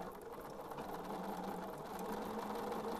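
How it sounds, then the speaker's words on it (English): A sewing machine runs continuously, stitching a seam a quarter inch in on doll fabric, its motor whirring with a fast, even mechanical chatter at a soft level. "I'm sewing a quarter of an inch in"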